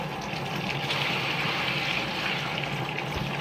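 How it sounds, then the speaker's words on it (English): Hot water poured from a bucket into a washing machine while washing twin sheets, a steady continuous gush of water filling the tub throughout, fairly close and unbroken. "I'm pouring in 2 hot buckets of water, and I'm starting another load"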